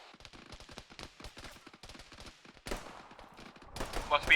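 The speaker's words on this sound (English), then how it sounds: "but are also taking accurate fire" Gunfire in a military video game, a rapid series of sharp shots and bursts, some distant and some closer, building to louder cracks near the end.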